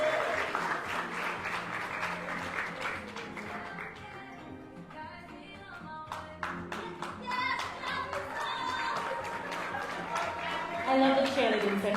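The audience at a graduation ceremony applauds and cheers in dense, continuous clapping that swells and fades in a large hall, with a voice heard over the crowd.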